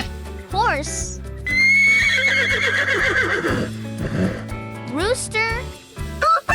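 A horse whinnies loudly in a long, wavering neigh, with a shorter rising call after it, over steady background music.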